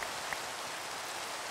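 Steady rain in the Minecraft SevTech Ages modpack, a dense even hiss of falling drops, continuous and fairly close, with no voices.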